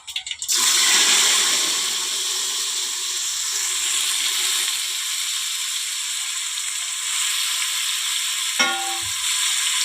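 Chopped onion and tomato dropped into hot oil with mustard seeds for a mutton dal curry, a sudden burst of loud sizzling that settles into a steady, even fry, with a short clatter near the end.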